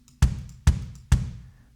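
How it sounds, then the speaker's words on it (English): A lone kick drum from Superior Drummer 3 is struck three times at an even pace, each hit a deep thud with a short decaying tail and no other drums or voices around it. "So just the kick on its own sounds like this,"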